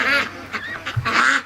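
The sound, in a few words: ducks quacking at home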